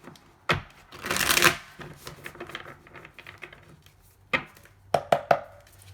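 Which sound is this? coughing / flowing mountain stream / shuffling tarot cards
shuffling tarot cards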